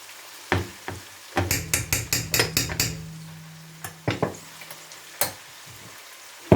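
Ginger garlic paste frying in a pan, a low sizzle under a quick run of metal spoon clinks and scrapes against the pan, followed by a few scattered taps.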